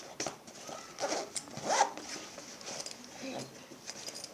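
A zipper on a bag is pulled open in a few short rasping bursts close by, with faint handling noise around it.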